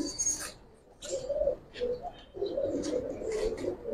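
Pigeons in a coop of silver Giribaz and coloured tumbler birds coo in a few soft, low, rolling phrases at close range, with scattered rustling and higher noises between the calls.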